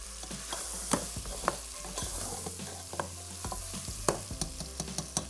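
Meat fries over a medium flame while being stirred, a constant sizzle punctuated by frequent sharp scraping and clanking strokes of a spoon against the pan, close and clear with no talking.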